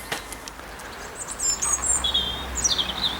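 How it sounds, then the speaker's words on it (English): A blackbird sings outdoors near a derelict cottage, a few clear whistled phrases coming and going at moderate distance over steady low background noise. "a blackbird there"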